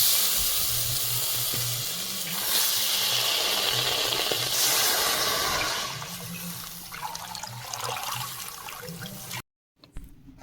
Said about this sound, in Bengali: এবার আমি ঢেলে দিচ্ছি ছোলার ডাল সেদ্ধ করে নেবো